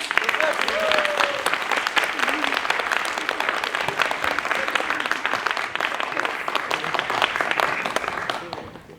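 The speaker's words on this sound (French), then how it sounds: "on peut l'applaudir" Warm, sustained applause for an actor from a theatre audience, with many hands clapping densely and a few voices rising through it before the clapping tapers off near the end.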